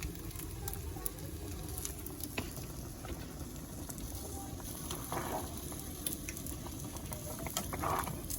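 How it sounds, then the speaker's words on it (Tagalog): Denengdeng, a Filipino vegetable stew, simmers gently in a pot with a steady soft bubbling patter and faint sizzle that continues throughout, fairly quiet and close. "Konti yung kulo pa."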